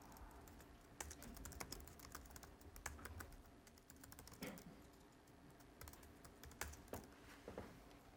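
Quiet, steady typing on a computer keyboard, with irregular key clicks and occasional louder taps, heard close and alone.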